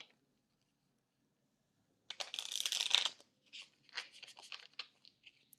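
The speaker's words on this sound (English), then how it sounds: "Give it one more shuffle." A deck of oracle cards being shuffled during a daily card reading, a short burst of riffling followed by a few softer, scattered flicks and taps, close and quiet with no talk.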